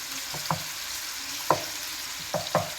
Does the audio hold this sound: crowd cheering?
no